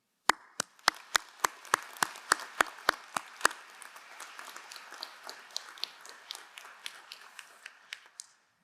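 Applause from an audience at a business school masters commencement ceremony starts with sharp, distinct claps in a steady rhythm, then grows into a denser, softer patter of many hands.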